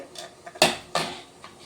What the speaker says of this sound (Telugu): ఇప్పుడు ఇందులో ఈ గిన్నె పెట్టేసుకుంటాను